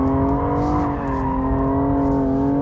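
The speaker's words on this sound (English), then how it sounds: "Here we go, full throttle." BMW M235i engine held at full throttle while drifting with oversteer, a loud, steady, high-revving roar with strong harmonics and slight pitch wavering, close and sustained throughout.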